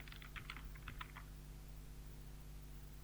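Quick bursts of keystrokes on a computer keyboard typing text in capital letters, faint and close, clustered in the first second before falling to a quiet electrical hum.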